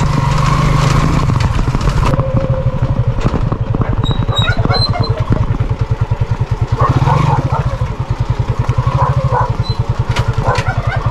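An engine-driven pump draws up the last of the standing water, its small motor chugging loudly and steadily nearby with a fast, even pulse and some clattering on top.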